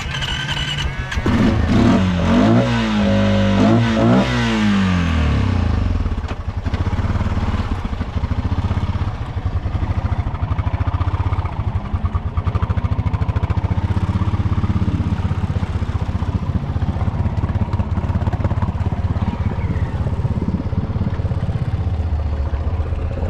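A Honda Rubicon 520 ATV engine with a copper 90-degree mod runs loud and steady while backing deep into a pond, with a brief rising rev near the start, then a constant rumble and splashing churn.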